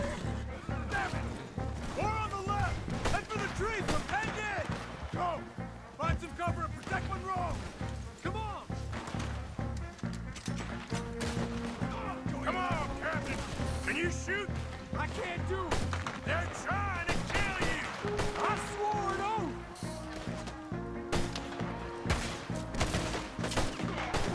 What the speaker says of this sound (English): I mean, Charles is still shooting.